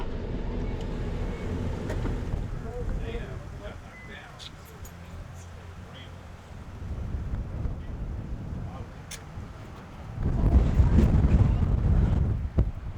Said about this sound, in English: It's a little bit chillier and a little windy up here.